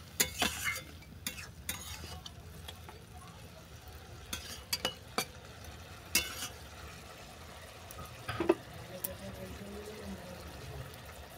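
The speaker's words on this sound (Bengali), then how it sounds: "চিঁড়ের সঙ্গে ভালো করে মিশিয়ে নিলাম।" Flattened rice is stirred with chopped tomato in a pan, a soft continuous scraping and gentle sizzle broken by sharp spoon taps against the metal, with faint background voices.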